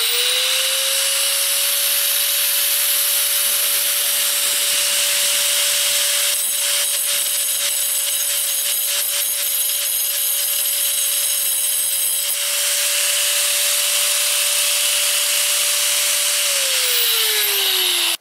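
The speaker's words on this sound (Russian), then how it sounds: "Чем она делается? Обыкновенная, значит, болгаркой, так сказать." Angle grinder fitted with a diamond disc cuts a slot in a muffle for a small casting furnace, a steady high whine holding one pitch for the whole stretch with a gritty cutting rasp over it. No one speaks.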